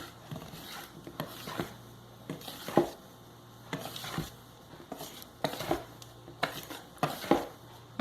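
A hand whisk beats batter for homemade treats in a bowl, giving irregular clinking and tapping strokes against the sides, close and fairly soft, with a low steady hum beneath.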